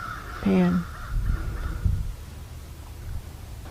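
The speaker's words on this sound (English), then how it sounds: "Meanwhile, these crows are really carrying on." Crows caw loudly outdoors, a short burst of harsh calls followed by fainter cawing in the background, with a person talking over parts of it.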